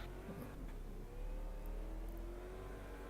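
Race car engine in the video game Assetto Corsa Competizione, a steady loud droning roar with rising whine as it accelerates and shifts, heard continuously and up close.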